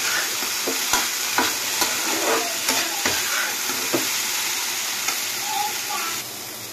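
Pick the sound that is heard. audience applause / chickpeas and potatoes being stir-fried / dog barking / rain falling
chickpeas and potatoes being stir-fried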